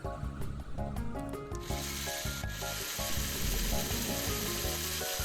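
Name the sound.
LEGO motor spinning a gear contraption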